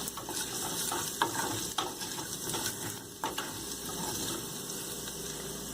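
Dal makhni being stirred in a pot just after Kashmiri red chili powder is added, with a steady wet sizzle and several soft scraping knocks of the spoon, close and continuous.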